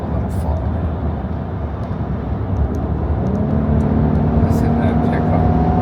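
A 2025 Infiniti QX80 Autograph SUV engine pulls hard on the highway at around 90, its steady rising drone building beneath road and wind noise while someone talks over it.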